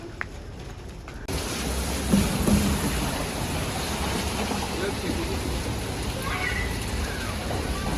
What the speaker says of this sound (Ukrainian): Ми попали під дощ.